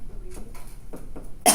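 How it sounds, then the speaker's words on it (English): A few short coughs close up, spaced irregularly, ending in a louder, harsher cough. "I'm going to start coughing"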